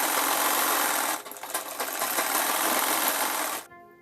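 A sewing machine stitches a blouse waistband in a loud, continuous close whir. It dips briefly partway through, then resumes steadily and stops abruptly near the end.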